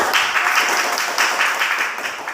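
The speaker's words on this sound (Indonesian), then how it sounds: "tepuk tangan untuk kelompok 1" Classroom applause as schoolchildren clap for a student group after its presentation, a brisk, fairly close burst of many small hands clapping together.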